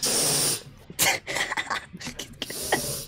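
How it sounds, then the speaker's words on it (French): A sniffing sound inside a Roblox game: a run of short, breathy, hissy bursts with gaps between them, fairly loud and close, with no talk over it. "Non mais c'était quoi ce reniflement là?"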